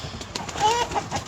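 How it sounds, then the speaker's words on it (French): Hens cluck and murmur softly inside a henhouse, a few faint, scattered calls over quiet background noise. "Tiens, tu peux virer les poules là. on est dans le poulailler,"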